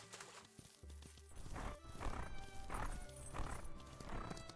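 Wild horses in The Ranch of Rivershine video game neigh and whinny with clip-clopping hooves, several repeated loud calls rising over game ambience.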